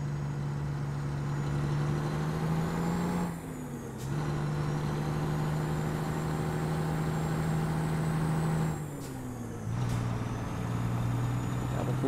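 A truck engine drones steadily and loudly in Euro Truck Simulator 2, dropping in pitch twice at gear changes before pulling again, a continuous mechanical roar with no talking.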